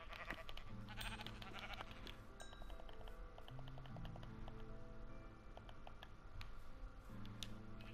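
Sheep in Minecraft on PlayStation 4 bleat repeatedly in short tonal calls over game background sounds, with light footstep-like clatter; moderately loud and close, no talking.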